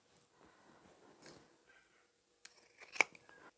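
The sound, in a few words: scissors trimming fabric corners of a tote bag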